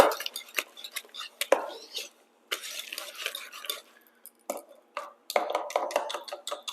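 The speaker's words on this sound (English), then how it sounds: "I'm just going to whisk in egg number 1." Egg being whisked by hand into Danish pastry dough in a bowl, giving irregular scraping and clinking bursts that are close and moderately loud, with short pauses between strokes.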